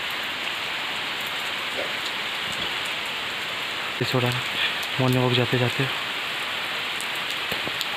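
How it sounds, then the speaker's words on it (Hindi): Heavy rain falling during a morning walk, a steady dense hiss throughout, with someone talking briefly over it midway. "आधे रास्ते में बारिश शुरू हो गई है।"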